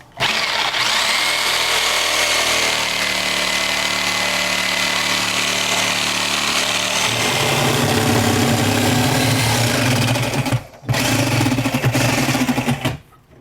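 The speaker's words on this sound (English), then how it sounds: "we're going to cut through the gable" A power tool cuts through the gable of a kitchen sink base cabinet, a steady loud whine with a harmonic motor pitch that deepens and strains partway through, then briefly cuts out and restarts near the end.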